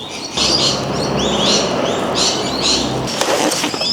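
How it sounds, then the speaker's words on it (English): Birds in gum trees calling in the morning, a busy chorus of chirps, tweets and cooing close by, sustained and loud, with a brief flutter near the end. "We've got these gum trees right here, and the birds are going crazy this morning."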